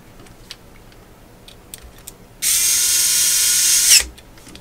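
A nut on a GTX 1080 Ti waterblock is driven down, likely with a small powered screwdriver: a steady, high-pitched mechanical buzz runs for about a second and a half after faint clicks and handling noises.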